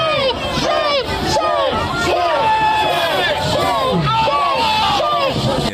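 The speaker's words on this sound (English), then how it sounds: "this is the biggest crowd I've seen at the ICE detention center" A large crowd of protesters outside an ICE detention center, loud chanting voices rising and falling in repeated rhythmic waves, close and dense, with shouting throughout.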